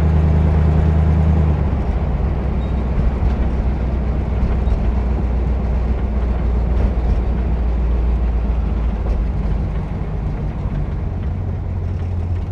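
A 1955 Ford with a Y-block V8 engine, running with bent push rods, cruises slowly along a back road, a steady, loud low drone that continues throughout with no talking.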